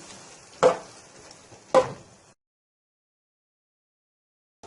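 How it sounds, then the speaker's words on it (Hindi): Dal mixture roasting in masala for restaurant-style dal makhani, with two sharp spoon scrapes and a low sizzle across the first two seconds before a long silence. "मिक्स करने के बाद 2 से 3 मिनट तक इनको आप अच्छे तरीके से इस मसाले में भून लें"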